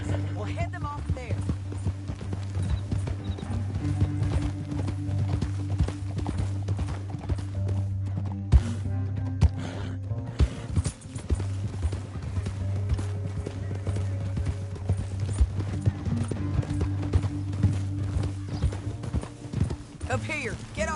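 Horse hooves clip-clop steadily through the Red Dead video game, a continuous galloping rhythm under a low music bed, with voices of characters speaking over it.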